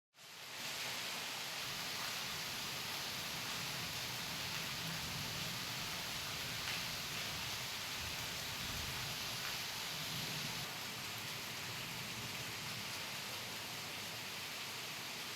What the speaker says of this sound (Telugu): ఉరుములు మెరుపులతో కూడిన భారీ వర్షానికి లోతట్టు ప్రాంతాలు జలమయమయ్యాయి.